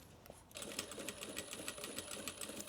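A sewing machine stitches a tote bag seam at 3.5 stitch length, starting after a brief pause and then running steadily with a fast, even mechanical chatter.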